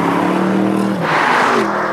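A BMW M850i with a 530-horsepower V8 revving, a loud, close engine note rising and falling over a couple of seconds, heard alone.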